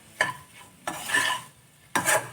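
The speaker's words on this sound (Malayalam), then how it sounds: "എല്ലാം ഒന്ന് മിക്സ് ചെയ്ത് ഇതെല്ലാം കൂടി നമ്മളൊന്ന് മിക്സ്" A spoon scrapes and stirs a clam roast mixture in a pan, three close, distinct stirring strokes with light sizzling between them.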